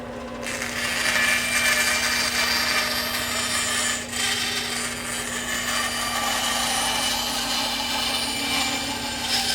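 A bandsaw cuts wood just outside a marked line, a steady loud whine with a constant motor hum and rasping blade noise running throughout, with only a brief dip near the middle.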